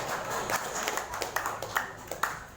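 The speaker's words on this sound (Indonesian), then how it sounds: "Yang tepuk tangan untuk Pak Taufik" An audience claps for Pak Taufik at an evening Haul commemoration for Gus Dur, a soft, fairly distant patter of applause with a few sharper individual claps rising over it.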